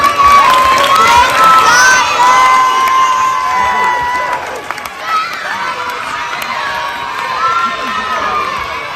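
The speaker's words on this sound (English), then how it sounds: "A round of applause for science." A crowd of children cheers, shouts and applauds loudly all at once at a science show, the excited noise peaking early and then tapering to a lively murmur.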